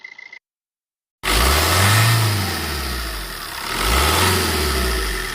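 A brief click, a pause, then an 8-seater car's engine catches with the bonnet open and runs loudly nearby, revving up twice with a steady idle between.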